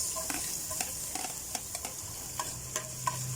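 Garlic and onion sauté in a pan, frying with a steady close sizzle while a spatula scrapes and taps in quick, regular strokes; no one speaks.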